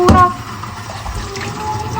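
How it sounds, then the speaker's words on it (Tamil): Tap water runs into a metal vessel as it is rinsed in a home kitchen, a short splash at the start settling into a steady near stream. "பாத்திரத்தை வாஷ் பண்ணிட்டு"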